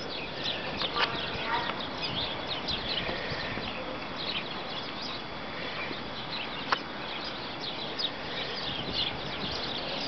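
Small birds chirp and call near birdhouses in a snowy yard, with thin repeated tweets scattered over steady outdoor noise. A few sharp clicks stand out, and a person speaks nearby.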